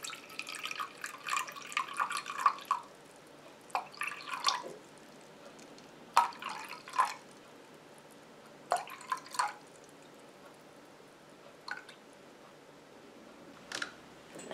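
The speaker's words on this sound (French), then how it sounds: "Pour commencer, je mets 122 g d'eau." Water trickles and drips into a container for homemade coconut and donkey milk shower gel, in short intermittent bursts separated by near silence, fairly quiet and close.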